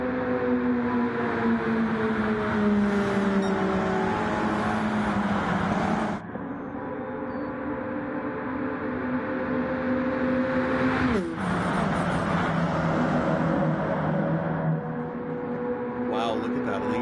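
Stock cars racing at Daytona in Gran Turismo 7, a loud continuous engine drone with shifting harmonic pitch and sharp changes as cars pass, under steady commentator talk.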